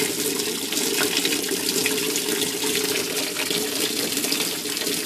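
Hot water runs steadily from a tap into a sink while new fleece is being prepared, a loud, continuous splashing rush with no break and no talk.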